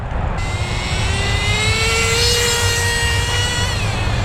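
A gas-powered Associated RC10GT RC truck driving on a wet road with bald rear tires, its small engine buzzing steadily at high RPM, loud and close, with a pitch that rises slowly and then settles.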